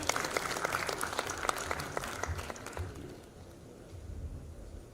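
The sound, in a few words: audience applause at a symposium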